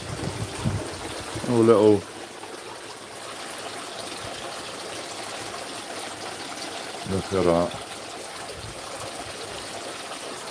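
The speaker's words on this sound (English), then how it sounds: "I like it out here because it is so relaxing with the water. The sound of the water." Water trickles steadily beside a garden pond, a soft continuous wash with a voice breaking in briefly twice.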